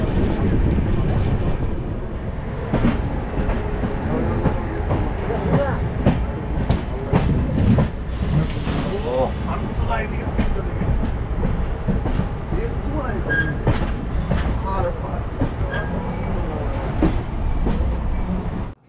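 The Coromandel Express, Howrah to Chennai, runs out of Cuttack with a loud continuous rumble and rhythmic clickety-clack of wheels on rail joints heard from inside the coach, steady throughout before cutting off abruptly.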